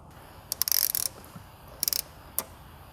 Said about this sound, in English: Now we can just bolt it in.